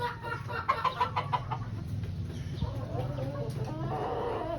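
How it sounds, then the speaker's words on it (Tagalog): Gamefowl bull hens kept for breeding cluck and call on a farm, with a few bright, fairly close calls early on over a steady low background of farmyard noise. "Papakita ko sa inyo yung mga bullhen,"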